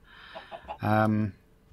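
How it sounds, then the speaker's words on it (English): A chicken lets out a loud, drawn-out squawk or call, preceded by a few soft clucks, heard close up in a farmyard. "Oh, chicken, what are you doing here?"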